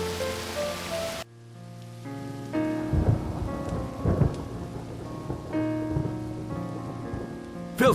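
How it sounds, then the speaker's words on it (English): A thunderstorm with rain in the video game And Then There Were None: steady rain on surfaces beneath repeated rolling thunder cracks, loud and close, with no voices. "A storm like that will keep us all indoors."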